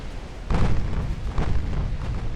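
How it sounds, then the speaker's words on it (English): A torpedo strikes a ship in the naval battle game Ultimate Admiral: Dreadnoughts, landing as a deep muffled boom over a constant low rumble, followed by a second, softer thud a second later, with no voices. "Another torpedo strikes."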